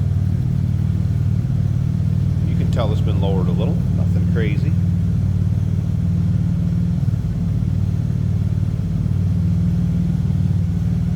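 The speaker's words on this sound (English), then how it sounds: "Getting kind of that old school hot rod sound with a dual exhaust and glass packs." A 1954 Plymouth Plaza Club Coupe, lowered, idles with a steady deep rumble through dual exhaust and glass packs, loud and constant throughout while someone briefly talks over it.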